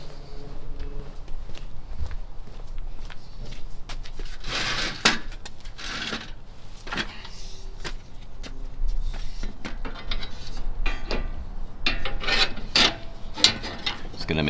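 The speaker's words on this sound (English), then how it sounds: "I'm gonna go tighten the other side up right now. Passenger side, side rail insert." Tightening the side rail of a Prinsu roof rack on a Toyota 4Runner, a close series of rasping, scraping and ratcheting metal sounds in irregular bursts over a steady low background.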